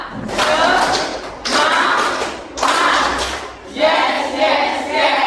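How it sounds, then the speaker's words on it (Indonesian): A group clapping in a rhythmic spirit clap, four long bursts of fast, dense hand claps separated by short pauses, close and loud. "Oke, tepuk semangat"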